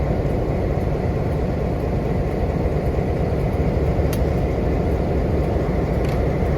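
Western Maryland Scenic Railroad's Tygart Flyer train starting up in the rain: a steady, loud, continuous low rumble and hiss of engine and cars, unbroken throughout, with a couple of faint high clicks and no talk.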